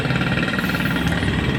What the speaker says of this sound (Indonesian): raungan knalpot si Army bisa memecah kesunyian